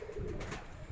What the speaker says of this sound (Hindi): ये कबूतर है उनके